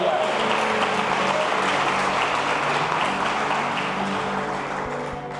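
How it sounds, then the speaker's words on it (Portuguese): Church congregation applauding during a sermon, a dense, steady wash of clapping that stays loud throughout and eases slightly toward the end, with some crowd voices mixed in. "Só quem crê nessa palavra aplauda Jesus."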